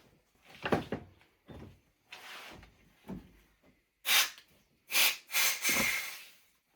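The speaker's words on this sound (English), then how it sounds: "let's get some compressed air in it and see if we can pop it" Bursts of compressed air hissing into a brake caliper held in a vise, starting as short softer puffs and turning into louder, sharper blasts near the end.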